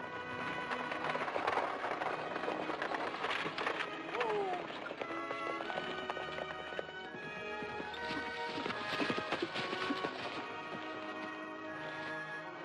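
Horses pull a stagecoach, their hooves clip-clopping in a brisk continuous rhythm alongside rattling mechanisms and a swelling music score, with voices briefly present.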